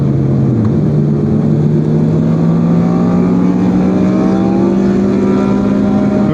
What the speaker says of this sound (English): a big group of riders riding at night through the city